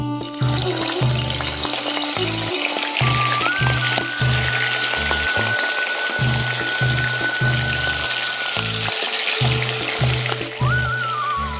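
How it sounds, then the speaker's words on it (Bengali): Chicken pieces frying in hot oil in a wok for a home-style chicken roast, giving a steady close sizzle throughout with no talking. "তেলটা আমার গরম হয়ে গেছে। এখন আমি চিকেনগুলো ভেজে নেব।"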